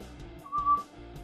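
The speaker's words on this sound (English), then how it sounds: "That was not a good whistle, but I tried." A person whistles a single short, steady note that rises briefly out of quiet background noise, faint and close, with no talking.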